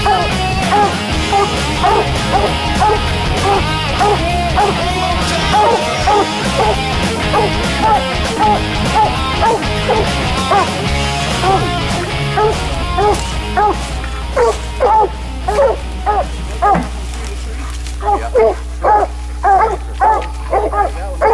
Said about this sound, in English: you see them dogs working that tree right there